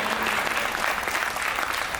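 An audience at a Hindi comedy performance breaks into a short burst of dense, even applause that stays steady across the brief moment.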